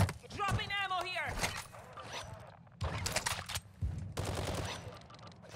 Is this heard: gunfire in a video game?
yes